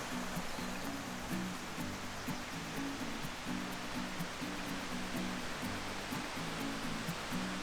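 Water cascades over rocks and debris on a mossy forest trail at Bridal Falls, a steady, continuous rushing wash with no pauses.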